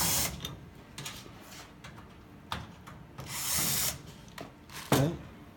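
A power driver whirs in several short bursts while screws are backed out of a Defender arcade cabinet control panel, with small clicks and rattles between the bursts.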